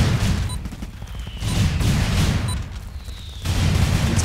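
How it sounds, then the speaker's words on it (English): An artillery barrage in the shooter game Running with Rifles: repeated heavy explosions boom in overlapping waves, three main surges of rumbling blasts with faint distant whistles between them, with no talk. "This is 8 rounds of artillery."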